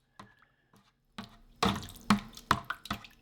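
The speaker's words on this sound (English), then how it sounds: "I'll get the bentonite into my primary, and I'm going to add my juice." Riesling grape juice from a wine kit is poured into a primary fermenter holding bentonite, giving several splashy pours and drips that swell in short bursts after a quiet start.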